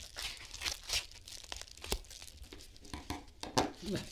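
A package from an online order is cut open with blunt scissors, giving a run of irregular crinkling, tearing and snipping noises close to the microphone.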